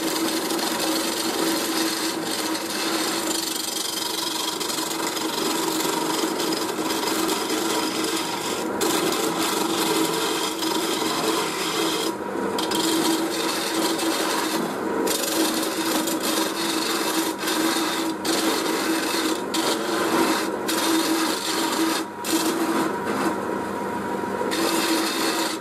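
Steady rasping of a gouge roughly carving a wooden hammer handle into shape, close and continuous with repeated scraping strokes.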